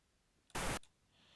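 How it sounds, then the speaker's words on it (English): A single burst of pink noise from a signal generator cuts in abruptly, holds as a flat, full-range hiss for about a quarter second, then stops dead against near silence. "We're going pink noise."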